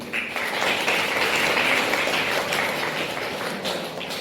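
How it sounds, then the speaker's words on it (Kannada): Loud applause from a crowd of students at a press day celebration in Ramadurga, a dense sustained clapping roar that swells early and slowly fades, heard close and without speech. "ಆ ವಿದ್ಯಾರ್ಥಿಗಳ ಜೋರದ ಚಪ್ಪಾಳೆ ಬಂದರು"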